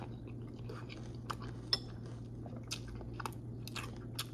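Crunchy high-protein cereal being eaten close up, with soft crunching bites and occasional spoon clinks against a bowl over a low steady hum.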